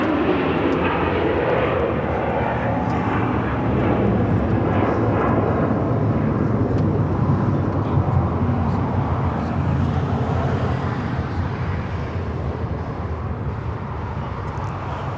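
Qatar Airways Airbus A350 jet passing at LAX, a steady, loud, broadband engine roar that swells and eases slightly over the whole stretch, with no talking.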